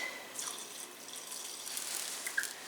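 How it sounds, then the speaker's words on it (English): Ordinary hydrogen peroxide poured into water in a container, a faint, soft trickle and splash with a few light drips, quiet and close, with no voices. "Add some peroxide in there."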